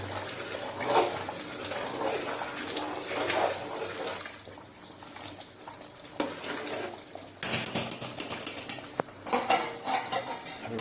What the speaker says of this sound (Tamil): அப்படியே மேலோட்டமாக ஒரு கிண்டு கிண்டு மாதிரி.